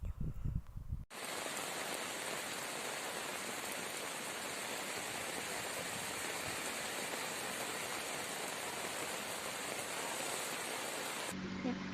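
Very heavy rain pours down on the village of Sembukan, a dense, steady roar close by that starts abruptly after a moment and continues unbroken for the rest of the clip.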